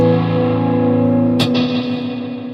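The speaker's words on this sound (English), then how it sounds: "just a much brighter delay trail just in general, or reverb trail" A sustained electric guitar tone through a delay pedal in bright mode rings out with a bright, shimmering delay trail, a brief sharp pick attack in the middle, then slowly fades.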